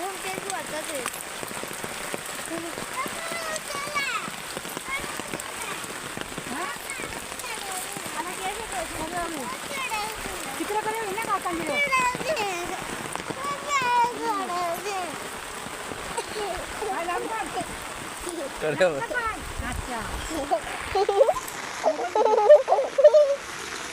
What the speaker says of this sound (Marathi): आता पाऊस आलाय, म्हणजे पाऊस कसा शेतात पाण्यात.